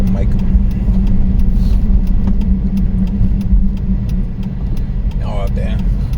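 Steady road rumble from inside a moving car on an afternoon drive as traffic builds, a continuous low engine and tire drone with faint rattles, while someone talks briefly over it.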